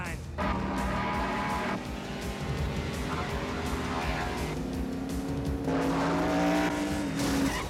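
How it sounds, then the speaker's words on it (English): Stock cars racing at Daytona, with engines roaring in sustained tones and tires squealing, heard under raised voices talking over the race. "With just 23 laps to go, Cole Trickle is leading."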